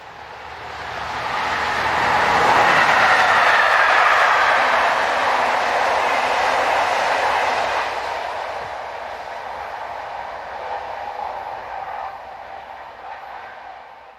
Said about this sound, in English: Here 26151 passes with train EC96 from Zurich to Brussels.